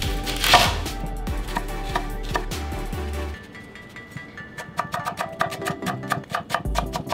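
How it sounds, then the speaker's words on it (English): Knife chopping white onion on a board: a steady run of sharp, close taps, heavier and denser at first, then lighter, quicker strokes, with no talking. "Second thing we're gonna do is chop some white onion."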